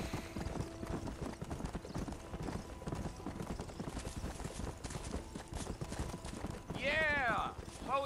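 Rhythmic clip-clop of horse hooves while riding in Red Dead Redemption, a steady galloping beat under talk, with a horse whinnying briefly near the end.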